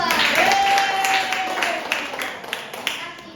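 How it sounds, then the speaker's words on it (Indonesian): A primary-school classroom applauds group 2 with brisk clapping from many children, loud at first and fading toward the end, with voices and a brief tonal squeal mixed in. "kasih aplaus dulu untuk kelompok 2"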